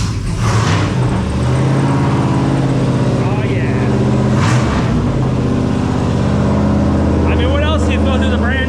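A 1993 GMT400 pickup truck, an Indy pace truck, running its brand-new, untuned LS swap engine, a loud steady rumble that rises in a rev near the middle, with people talking over it.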